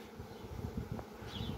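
Honeybees buzz in a swarm trap at an apiary, a low, steady droning hum, close and soft, with no talking.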